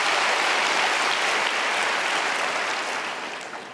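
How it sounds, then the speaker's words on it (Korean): Congregation applauding at a church prayer meeting, a loud, full, continuous wash of clapping from many hands that holds steady and then tapers off near the end. "살아계신 하나님께 여러분 영광의 박수 한번 올려드릴까요?"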